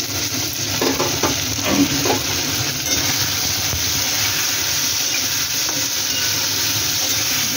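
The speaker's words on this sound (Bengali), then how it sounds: "আলুটা নাড়ছি" Cut potatoes with salt frying in a pan, a steady loud sizzle throughout with a few scraping stirs near the start, close and continuous with no voices.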